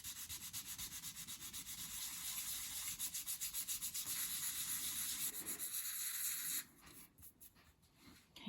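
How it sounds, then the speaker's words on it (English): Fine 500-grade sandpaper rubs back and forth over the wooden slats of a dolls house in quick, rhythmic strokes, close and fairly soft, before the sanding stops and leaves quieter scratching. "just bring in your piece of 500 grade sandpaper again and just sand the surface"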